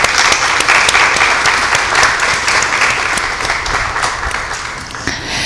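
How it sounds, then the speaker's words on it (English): Sustained audience applause for a panel at a tourism and hospitality careers event, steady and dense throughout before easing slightly at the end, with no talk over it. "So a round of applause for all of our panelists up here."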